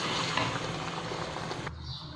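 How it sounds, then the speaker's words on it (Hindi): Dried green chickpea nimona stirred in a pan with added water, a close, continuous wet scraping and sizzling that stops abruptly near the end. "और इसको अच्छे से हम मिक्स कर लेंगे।"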